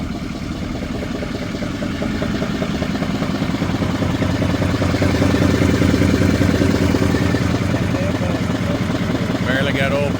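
A 2020 L5P Duramax diesel truck engine idles roughly and unevenly with a steady low clatter, running continuously under a voice talking nearby.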